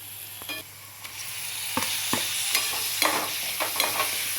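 Tomatoes cooking in a pan for a soybean bhurji, a steady sizzle that grows louder after they go in, with repeated sharp scrapes from stirring up close.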